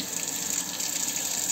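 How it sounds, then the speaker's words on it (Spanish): Water runs steadily from a repaired single-lever mixer tap, a continuous close gushing hiss with no talking. "abrimos el agua y cerramos"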